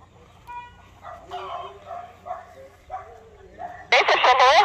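A captured chicken squawks in a sudden loud, close burst near the end, following a stretch of people talking.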